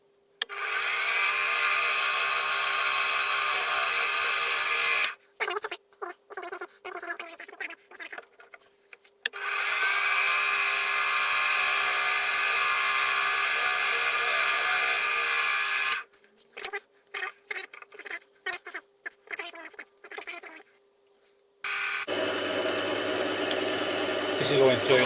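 A 7.5mm drill bit cuts through a metal sole plate for a Stuart S50 steam engine build, two long sustained bouts of steady machine whine separated by clatter and brief gaps, with a different hum at the end.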